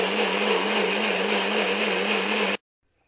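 A mixer grinder whirs steadily as it grinds a batter of rice, purple cabbage, green chili, curry leaves, beans and carrot, a loud continuous motor drone that cuts off abruptly near the end, no talk.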